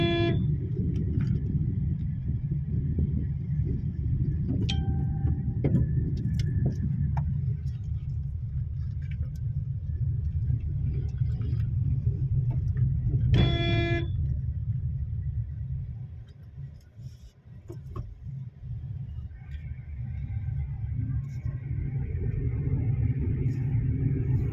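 A car driving near the Rajur Ganpati temple (Shri Kshetra Rajureshwar) before parking, with a steady low engine and road rumble, a short horn toot in the middle, and a brief dip as it slows.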